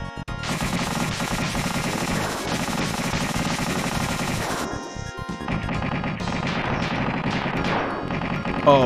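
Rapid gunfire in the SNES game Earth Defense Force, rattling bursts of shots firing almost continuously with a brief break midway, loud and close over the game's electronic sounds.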